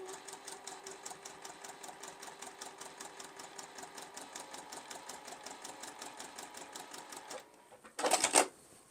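A sewing machine stitches a log cabin quilt block seam with a rapid, even mechanical chatter that stops abruptly near the end, followed by a brief clatter.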